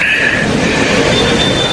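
A loud train rumbles past close by, a heavy continuous roar with a faint high metallic whine over it.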